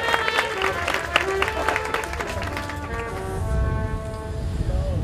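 Wedding guests applaud the witnesses at a Turkish wedding ceremony, a dense crowd clapping that fades over a few seconds while sustained tones hum underneath.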